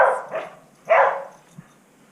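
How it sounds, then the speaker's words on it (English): Dogs barking while playing outdoors in snow, two loud close barks about a second apart followed by a faint yip, with no talking. "The dogs are having fun."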